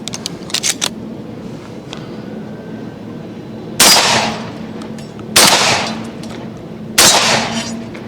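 Three loud, close shotgun blasts ring out a second or two apart from a Remington Sportsman 48 12-gauge fitted with an old Cutts Compensator, each decaying into a brief echo, with a few small clicks beforehand.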